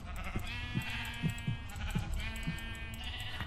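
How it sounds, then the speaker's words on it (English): Sheep in a video game bleat repeatedly in short, evenly spaced calls over a steady game soundscape, with no talking. "How much health did that sheep have?"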